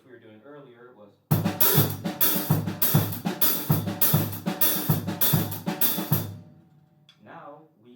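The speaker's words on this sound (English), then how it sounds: "This also works with our hi-hat and our snare drum combination for our Calypso" Calypso groove on a drum set, hi-hat and snare drum played together in a steady, loud syncopated pattern for about five seconds, with someone talking briefly before and after the playing.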